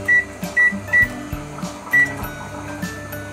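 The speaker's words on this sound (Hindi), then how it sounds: "170 पे प्रीहीट हो गया है माइक्रोवेव।" A microwave oven run in convection mode at 170 degrees bakes a Jain bar cake, with a steady hum under several short, evenly spaced beeps and a few soft clicks and clunks.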